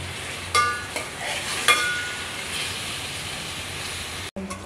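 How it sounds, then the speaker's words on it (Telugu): Chicken being stirred in a hot pan, a steady soft sizzle of frying with a few scraping clinks of the spoon against the pan, fairly quiet and close. "ఇలా చికెన్ మొత్తం వేసుకున్న తర్వాత మిక్స్ చేసుకుందాం."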